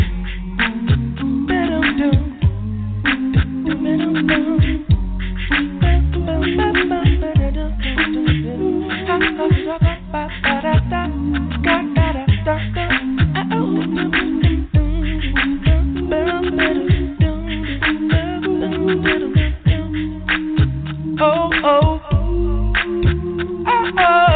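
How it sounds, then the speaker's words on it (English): A cappella gospel singing: layered voices harmonize in a steady, rhythmic groove that keeps going without a break, full and close. "That Acappella music."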